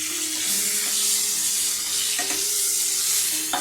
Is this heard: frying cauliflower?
yes